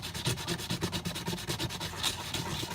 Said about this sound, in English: get some really lightweight light gauge sandpaper, or just like some 320 grit, 240 grit, so it's not going to damage the casing